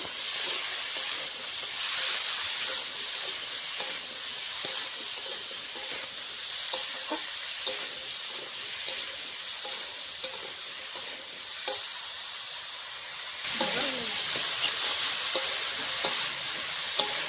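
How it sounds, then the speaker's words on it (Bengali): Cabbage with peas and carrots frying in a pan, a steady close sizzle with repeated scraping stirs, no voices. "ভালো করে ভেজে নেব।"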